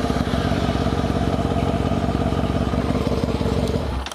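A motorcycle engine, recently troubled by a battery problem and a check engine light, runs with a steady, close, rattling putter, then cuts off abruptly at the end.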